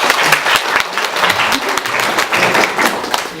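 Audience at a book talk for a short story collection claps enthusiastically, a dense burst of close, sharp hand claps with uneven thumps that stays loud throughout the short stretch.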